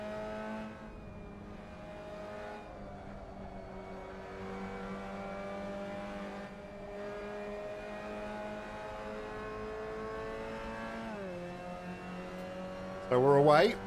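Mazda MX5 race cars accelerating off the start at Lime Rock Park, a sustained engine drone that climbs in pitch through the gears, with a driver talking over it and a brief sharp burst at the end.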